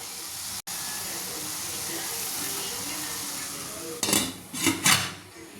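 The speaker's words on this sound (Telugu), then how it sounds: "కొంచెం పసుపు వేసిన తర్వాత మనం ఒకసారి గరిటెతో కలుపుకొని 2 నిమిషాలు మూత పెట్టుకుని ఉంచుకోవాలి." Ladle stirring spinach with turmeric in a cooking pot, then a lid set down, heard as a low steady background hiss followed by three short metallic clanks near the end, with no talking.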